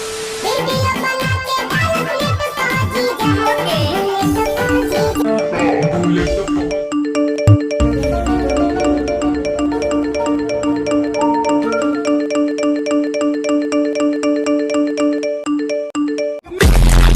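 An Android phone plays a rapid string of notification chimes and tones as an automation app floods it with repeated messages, the sounds piling up loud and busy for most of the stretch with no speech.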